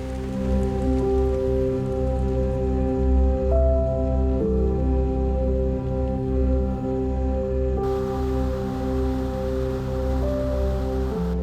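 Steady rain patters throughout, though a sustained droning tonal hum sits loudly over it, with no voices.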